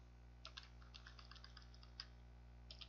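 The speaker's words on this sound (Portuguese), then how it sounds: "Deixa eu digitar de novo" Faint computer keyboard typing, a quick run of light key clicks followed by a few isolated taps, over a steady low electrical hum, no voices.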